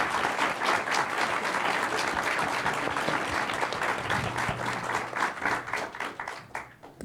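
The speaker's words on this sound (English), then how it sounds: "let's give our panelists a huge round of applause" An audience at a climate-film premiere screening gives the panelists a big round of applause, a full, sustained roar of clapping that holds steady before thinning and tapering off near the end.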